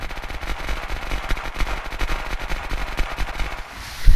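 A rapid burst of automatic fire in the video game Unturned, dozens of shots fired into a tree, each crack landing close together in a fast, steady rhythm that ends with a louder final thump.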